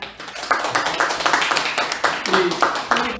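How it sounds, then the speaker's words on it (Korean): A congregation at a Won Buddhist temple dharma gathering claps to welcome a speaker, with a light, fairly sparse patter of hands in a reverberant room. "박수 주세요."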